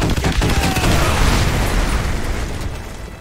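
Artillery strike in Call of Duty: Modern Warfare 2 Remastered: loud, close, overlapping explosions boom and crackle in a dense barrage, rumbling continuously before tapering off slightly at the end.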